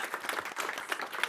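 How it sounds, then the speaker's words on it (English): Audience applause at an investor pitching event, a dense patter of clapping hands, fairly faint and steady throughout. "Okay, big round of applause."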